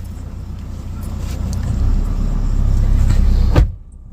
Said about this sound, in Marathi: दरवाजा लाव